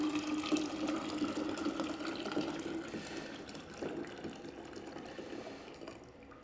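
About a litre of strong brewed tea pouring into a container for kombucha, a continuous liquid stream splashing and gurgling for several seconds, faint and close, tapering slightly toward the end with no talking.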